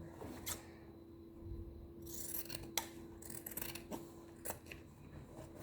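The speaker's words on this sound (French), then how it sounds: "Je vais couper le tissu en fait qui est en trop parce que ça va me gêner aussi." Scissors cut away excess fabric while a face mask is being sewn: a series of quiet, crisp snips in short bursts, close up, with no talking.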